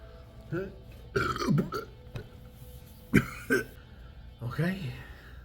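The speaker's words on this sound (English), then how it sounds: "The burp was buried underneath so many other burps" Several loud, close burps after gulping Cactus Cooler soda, spaced out over a few seconds with low throaty rumbles between them.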